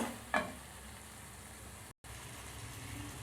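Spices with homemade garam masala powder are sautéed in a pan, a steady close sizzle with a brief stirring scrape at the start and one momentary dropout partway through.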